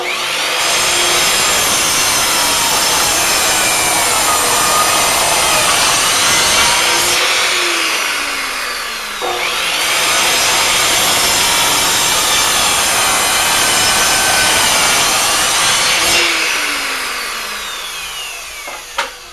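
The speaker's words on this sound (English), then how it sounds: "I'm going to cut these ends off and then take it over to the sander and start shaping." A wooden sword grip core being cut and then shaped on a power sander, giving a loud, continuous abrasive whir with two brief dips in intensity, and no voices.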